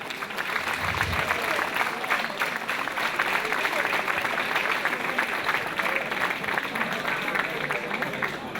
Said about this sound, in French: On peut applaudir cette belle brochette de jeunes.